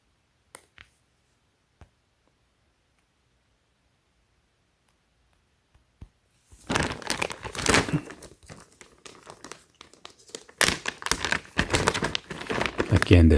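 A thick Ziploc plastic bag holding a Supreme x Champion garment is handled up close, giving loud, dense crinkling and rustling that begins after several quiet seconds broken by a few faint clicks and then continues in bursts.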